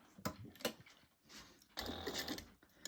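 A sewing machine stitching a seam on a bag, with a few mechanical clicks at first and then a steady close whirring run near the end.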